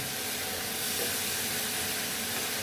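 Steady steam hiss rises from a pan of ridge gourd cooking with egg, ginger and garlic, a constant broadband rush close by with no voices.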